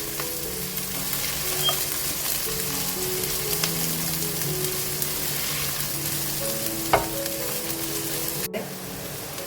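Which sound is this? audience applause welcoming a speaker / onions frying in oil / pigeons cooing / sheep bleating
onions frying in oil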